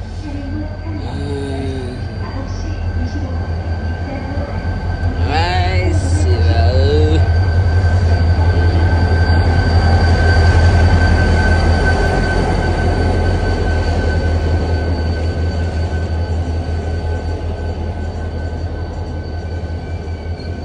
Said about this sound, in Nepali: म जाने ट्रेन आयो है।